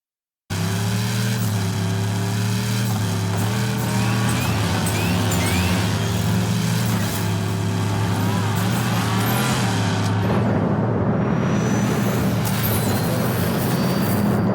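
Toy-car racing in the video game Hot Wheels Unleashed, with a loud, continuous engine whine and drone that holds steady, then shifts and roughens near the end, with no talking.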